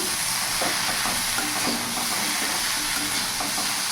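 Cumin and Kashmiri chilli powder stirred into a frying pan with salt and turmeric, giving a steady bright sizzle with faint scraping strokes from the spoon, close and continuous without any talking.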